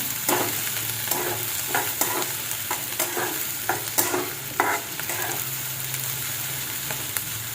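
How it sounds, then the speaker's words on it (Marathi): Chopped onions are stirred and sautéed in a pan for a mushroom masala, with a steady oily sizzle broken by repeated sharp scraping strokes of the spoon, close and without talk. "कांदा टाकून आता चांगलं आपल्याला हे परतून घ्यायचं."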